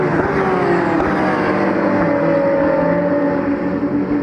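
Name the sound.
Porsche 991 Cup race cars racing on track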